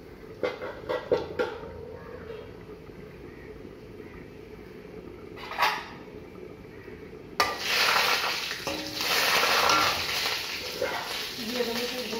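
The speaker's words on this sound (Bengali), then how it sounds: "এই যে সরষে আর শুকনো লঙ্কা ফোড়নে দিয়ে দিচ্ছি" Mustard seeds, dried red chillies and curry leaves hit hot oil with a sudden loud, steady sizzle after some quiet kitchen clatter and stirring, the crackle continuing to the end.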